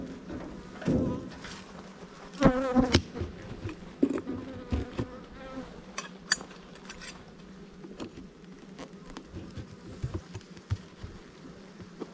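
Honeybees crowd the landing board at a hive entrance, a dense continuous buzz with individual bees droning past close by and occasional soft bumps, no talk.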